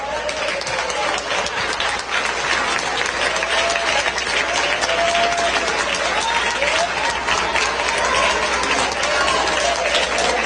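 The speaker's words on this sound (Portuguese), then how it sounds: "louvar a Deus com as palmas para Jesus" A church congregation claps steadily in worship for Jesus, a continuous dense wash of hand claps with voices calling and singing over it throughout.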